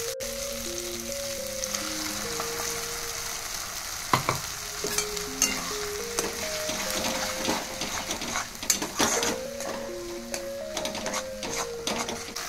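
Tomato and green chili paste fries in a pan with a continuous close sizzle, broken by spatula scrapes and clinks, while a light melodic tone plays in the background.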